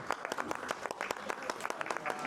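Scattered hand clapping for a birthday inside a restaurant in Florence, a small group applauding in quick uneven claps, fairly close, with voices mixed in.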